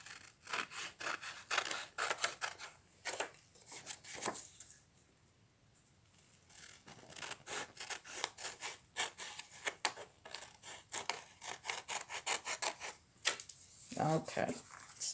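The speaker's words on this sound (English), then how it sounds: "So here I go. I'm going to cut it up." Scissors cutting paper to size for a third-grade Valentine art project, a rapid run of crisp snipping strokes close by with a short pause midway, each cut a sharp dry rasp.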